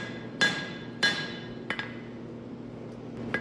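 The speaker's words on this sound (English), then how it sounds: "A lot more of that power is transferred into the anvil and back into your hammer." A hammer strikes hot steel on an anvil while forging a honesuki kitchen knife blade: loud, close metallic blows with bright ringing decay, two spaced strikes followed by a quick double hit and a final tap.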